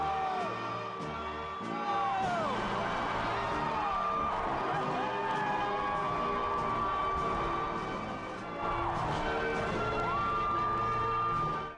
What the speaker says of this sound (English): their father was announced and the crowd went wild